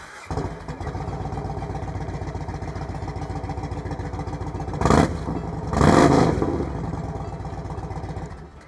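A big motorcycle engine that has sat unused for a while cranks and catches on an EBL starter battery, then settles into a steady, close idle with two brief, louder revs near the end.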